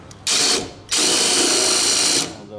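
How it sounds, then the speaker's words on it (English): A power drill drilling out a part on a 1997 Jeep Wrangler tailgate, loud and close, with a brief whine that stops and then a longer sustained run before it winds down. "Kind of drill it out and strip it out."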